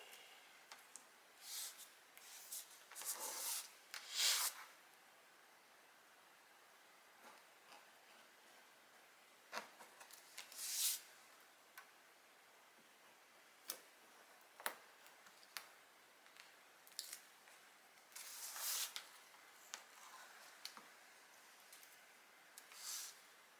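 Scissors snipping around sticker paper in short, scattered bursts of crisp cuts separated by pauses, close and quiet, with no talking.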